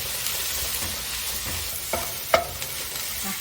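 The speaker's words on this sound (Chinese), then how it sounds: "这个蒜也下去炒香" Minced garlic sizzles in a hot pan with a soft continuous fry and a few sharp spatula scrapes and clinks, close up and without talk.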